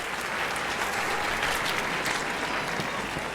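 A crowd applauds sportsmen being introduced at an event, a thick continuous wash of clapping that holds steady and loud from start to finish, with no clear voices over it.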